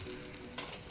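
Meat on a grill sizzles in a brief, close, steady crackling hiss with no voices over it.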